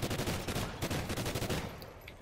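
Rapid automatic gunfire from Call of Duty Extinction rattles in a dense continuous fusillade, fairly quiet in the mix and tapering near the end.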